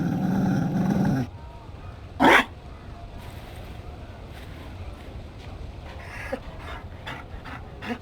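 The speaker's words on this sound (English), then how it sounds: "You found a dog." A Mabari war dog in Dragon Age: Inquisition pants briefly near the start, the sound cutting off after about a second and followed by quiet ambience with a short loud burst and a few faint clicks.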